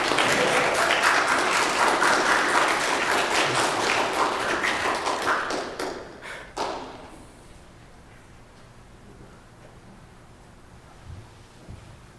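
Audience clapping fills the room at a bar mitzvah, a dense burst of many hands for about six seconds, then tapering off abruptly into quiet room tone with a few stray thuds.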